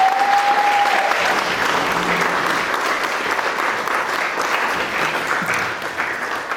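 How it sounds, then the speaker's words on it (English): Guests applaud at a wedding reception in the Botanical Gardens, Edinburgh, a steady wash of clapping from a roomful of people sustained for several seconds, with a brief tone near the start. "It deserves a round of applause, quite frankly"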